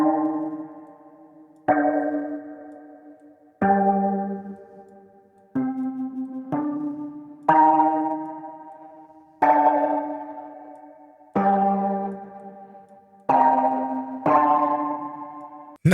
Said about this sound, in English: Gonna add just a little bit of distortion and a little bit of bit crush.